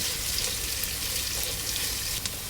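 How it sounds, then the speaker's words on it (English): Green chilies fry in a pot of hot oil for a one-pot chicken biryani, giving a steady, close, dense sizzle with no pauses and no voices. "I'm adding in the chilies, green chilies. Let's fry for some time."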